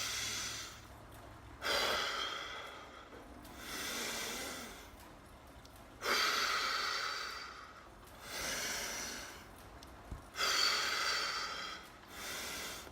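Hard workout breathing during a rest interval after spin-bike cycling, with smooth nasal inhales and quicker mouth exhales, about five to six loud breath bursts at a steady, unhurried rhythm, close up and alone.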